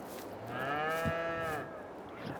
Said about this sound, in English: 5 Holstein dairy cattle and 5 black Angus.